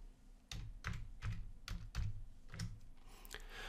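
Keys on a computer keyboard are struck to type a search word, giving a quick, close series of about eight crisp clicks in a steady rhythm with no talking.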